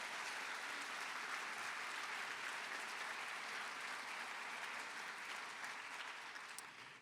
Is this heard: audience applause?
yes